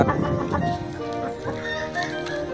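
A fighting rooster clucks in short bursts amid a cluttered background of other sounds, close and moderately loud.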